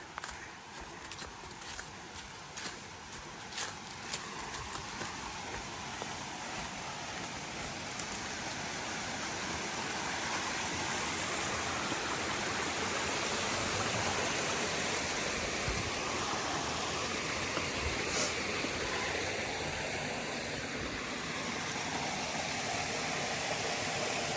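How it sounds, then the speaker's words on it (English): A waterfall along the Appalachian Trail gives a steady, broad rushing hiss that builds and then holds for a long stretch. Footsteps crunch along the trail early on. "I hear waterfalls."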